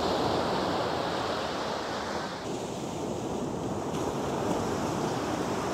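Sea waves rolling in at high tide on Digha beach make a steady, broad wash of surf with gusty wind across the microphone, continuous and fairly loud, with no voices.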